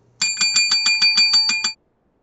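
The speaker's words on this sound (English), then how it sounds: "We get to ring the bell." A small bell rings rapidly about eight times in an even, bright sequence, loud and close, then stops abruptly into silence.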